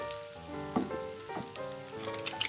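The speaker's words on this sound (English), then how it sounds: "Brown the quinces a little bit and then add the spices" Quince pieces browning in a hot pan give a soft, steady sizzle and spatter with a few sharper pops. A tonal ringing runs underneath, and no one talks.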